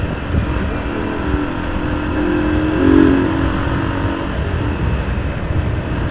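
A motorcycle engine revs amid city traffic in Porto Alegre, a steady near rumble that swells briefly around the middle before settling back, with no talk over it.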